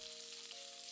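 Chopped shallots fry with dried red chillies and mustard seeds in hot coconut oil, giving a steady, soft sizzle with no talking.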